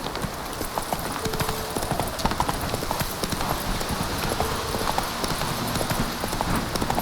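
Roach galloping in The Witcher 3, rapid rhythmic hoofbeats close and loud throughout, with game ambience behind and no talking.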